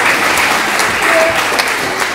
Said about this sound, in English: so, yeah, keep clapping